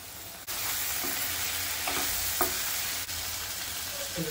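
Potato and dried shrimp (ambar) cooking in a pan, with a steady low sizzle of frying throughout and a few soft stirring scrapes in between.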